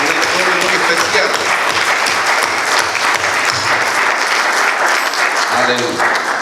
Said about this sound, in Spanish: le voy a pedir un aplauso fuerte al Señor